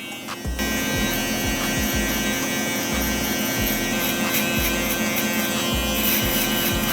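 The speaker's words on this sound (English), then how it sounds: "I'm gonna use the Fx3 shaver." Babyliss Pro FX3 electric shaver running close and steady, a continuous buzzing hum with rhythmic low pulses as it passes over hair during a barber fade.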